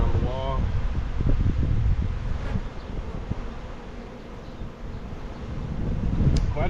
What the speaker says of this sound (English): Quite a bit of bees